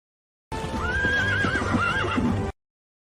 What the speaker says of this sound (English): A horse? I clearly heard a horse, but the stables have been empty.